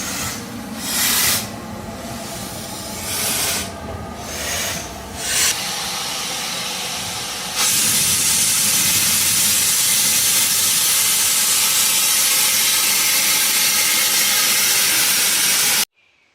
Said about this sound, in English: Check out the steam train coming into